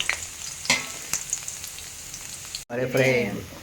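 Onion frying in a pan for Telugu-style pepper chicken made with garlic, a steady close sizzle with a few sharp crackles and stirring clicks, then a brief cutoff followed by a louder burst of frying.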